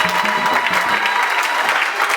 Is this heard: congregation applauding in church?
yes